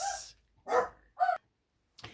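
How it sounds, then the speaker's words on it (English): Several dogs barking indoors in a rapid burst, with three or four sharp, loud barks spaced unevenly over about two seconds and short silences between them. "Sorry, the dogs went berserk again."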